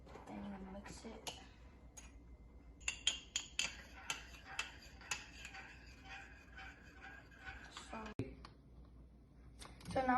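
A spoon clinks repeatedly against a cup while stirring instant coffee, a series of sharp metallic taps over a few seconds, close and fairly loud, with faint background noise.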